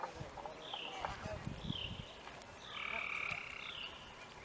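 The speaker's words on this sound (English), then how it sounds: "There's the holding pond, and you can hear a tree frog." A tree frog calls in repeated short croaking bursts from nearby beside a holding pond, with faint outdoor background noise and no talking.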